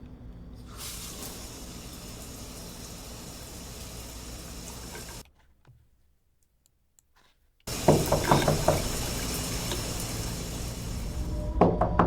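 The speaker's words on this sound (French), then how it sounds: "c'est parti pour la douche" A shower runs in the video game Once Upon A Mind as a steady hissing spray. It cuts off for a couple of seconds of near silence, then returns louder with some splashing.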